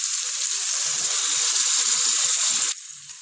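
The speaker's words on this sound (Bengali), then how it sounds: "এবার দিয়ে দেবো 1 কাপ জল।" Water poured from a cup into a hot pan of potatoes and spices, a loud steady sizzle and hiss lasting almost three seconds before dropping to a softer simmer.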